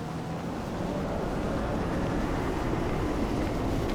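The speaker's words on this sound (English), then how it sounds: "the wind, as you can all tell, the wind is picking up here a little bit" Wind gusting across an outdoor ski loader slalom course at an equipment competition, a steady low roaring buffet that stays constant and fairly quiet throughout, with no speech.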